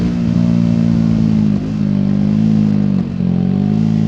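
A 2024 Triumph Speed 400 motorcycle ridden flat out on a road, its engine droning loudly and steadily at high revs with slight dips in pitch, wind rushing over it.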